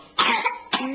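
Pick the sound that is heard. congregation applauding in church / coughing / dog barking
coughing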